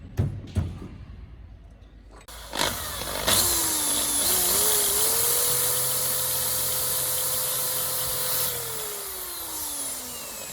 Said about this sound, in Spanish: Y ahora sí que hay que taladrar aquí.